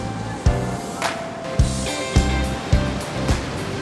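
Rushing rapids below a waterfall on the Mekong River in Laos, a continuous roar of churning water broken by repeated heavy thuds and splashes at irregular intervals.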